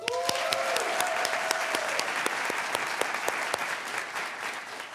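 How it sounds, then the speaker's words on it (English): Audience applause at a graduation hooding ceremony, a full room of clapping with sharp individual claps standing out, sustained and fairly loud before tapering slightly near the end. "Please join me in thanking these members for their service to the organization with another round of applause."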